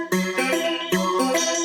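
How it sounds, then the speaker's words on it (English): Synth pluck with a comb-filter effect, playing short bright repeated notes in two quick phrases, clean and prominent with no voice over it. "it's the same pluck sound as up here in the original plucks, but with the same comb filter technique applied to it"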